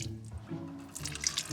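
Water drips and trickles from a leak inside a narrowboat, a soft wet patter with a few small brighter drops, close and faint, with no talking.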